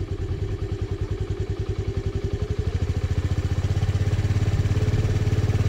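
A car engine in a driving lesson chugs with a rapid rhythmic pulse at low revs, then steadies and builds slightly as the accelerator is pressed, close and moderately loud with no talk.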